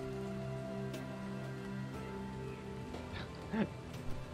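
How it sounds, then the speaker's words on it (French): Rain falling in the video game Starbound, a soft steady patter under sustained game music, with a few brief louder sounds near the end. "Faudrait au moins qu'il s'arrête de pleuvoir, ça serait juste déjà bien."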